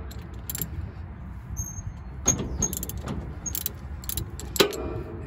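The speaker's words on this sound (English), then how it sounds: "I'm going to tighten this chain up" A wrench works on the saw chain of a Japa 365 Pro firewood processor, giving faint scattered metallic clinks and jangles over a low background rumble, close by.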